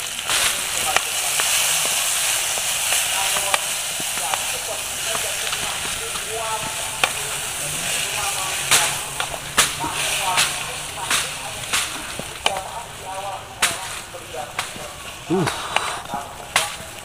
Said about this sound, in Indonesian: Kita aduk sampai benar-benar bumbunya ini